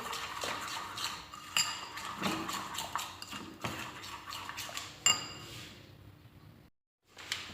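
A spoon stirs and scrapes a batter mixture in a bowl with repeated soft clinks and scrapes, close and fairly quiet, then stops briefly before one last faint touch.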